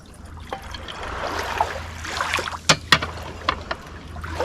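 Vodka poured into a glass for a raspberry Moscow mule, a soft liquid trickle and splash with a few light glassy clinks near the end, close up and quiet.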